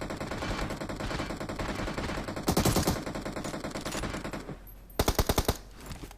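Rapid automatic gunfire from the mobile battle royale game BGMI rattles in continuous bursts, with louder, punchier clusters of shots near the middle and the end and a short pause between them.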